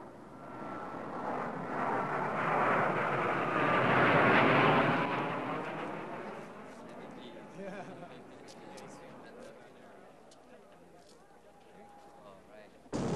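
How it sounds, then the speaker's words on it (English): A jet aircraft takes off from a runway, its engine roar building loud and close, peaking midway, then fading into the distance as it climbs away. "you're cleared into position and cleared for takeoff"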